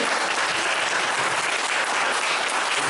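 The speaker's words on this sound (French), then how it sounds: "on va l'applaudir bien fort" Audience at a talk by a guest applauding loudly, a dense, continuous roar of many hands clapping close by, steady throughout.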